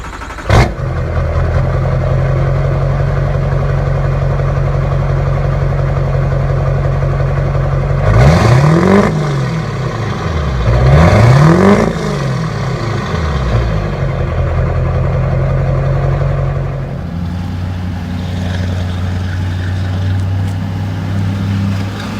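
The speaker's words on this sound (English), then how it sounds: "I'll throw in some clips of some idling and some acceleration LB7 clips" A Chevrolet LB7 Duramax diesel truck engine idles with a deep steady rumble, revving up sharply twice in the middle before settling back to idle.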